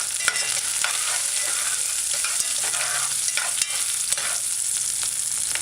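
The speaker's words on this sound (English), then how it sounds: "So you just want to brown the onions a little, saute it to give your stew additional flavor" Onions brown and sauté in a pot for a cho-cho and okra stew, giving a constant bright sizzle with occasional light stirring scrapes and no talking.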